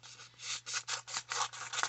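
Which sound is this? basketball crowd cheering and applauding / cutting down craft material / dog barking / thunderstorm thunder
cutting down craft material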